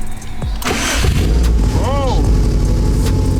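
Subaru STI with a Hawk Eye build cranking and firing up, a short burst of starter churn breaking into a loud, steady engine rumble up close, with a person shouting in excitement over it.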